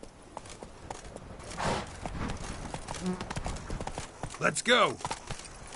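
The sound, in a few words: horse Roach galloping in video game The Witcher 3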